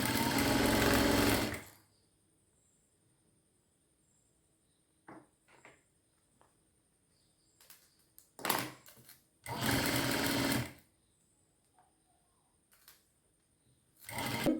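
A sewing machine stitches the back piece of a blouse in several separate runs: a long burst at the start, a short one, then a longer one, and a brief start at the very end, with quiet between them.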